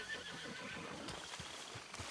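Horse in a video game, a short whinny over a few soft clip-clop hoofbeats, fairly quiet and close, with no talk.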